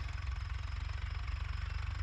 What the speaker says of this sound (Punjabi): ਆਹ ਟਰੈਕਟਰ ਚੱਲਦਾ ਪਿਆ ਜੀ